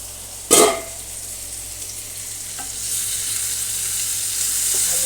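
Potatoes fry in a pan with a steady sizzle, broken early by a sharp clatter as they are stirred, followed by fainter scrapes while the frying hiss continues.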